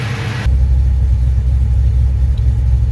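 A 1970 Buick Skylark's 455 engine idles with a steady low rumble, loud and close, after a brief burst of higher whirring noise at the start.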